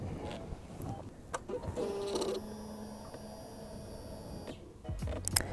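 A Suzuki GSX-R motorcycle's ignition switches on: a short whirring of the STVA servo motor, then the fuel pump priming with a steady electric hum that stops after a few seconds, close and fairly quiet.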